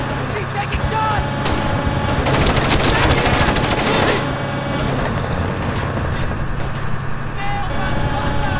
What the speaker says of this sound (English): Incoming fire! He's taking shots!